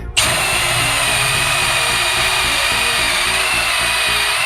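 A Milwaukee M18 ONEDD2 cordless drill driver spins up abruptly and whirs at a steady high speed, loud and close, with a constant motor whine and no voices.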